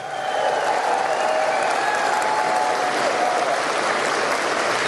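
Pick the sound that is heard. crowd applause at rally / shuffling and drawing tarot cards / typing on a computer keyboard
crowd applause at rally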